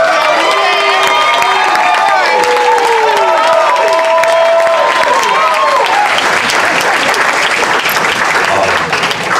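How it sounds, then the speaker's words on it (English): A launch party crowd gives a loud round of applause for Sherry, dense clapping mixed with cheers and whoops, plus overlapping voices and excited chatter, sustained close and full throughout. "can we get a round of applause for Sherry?"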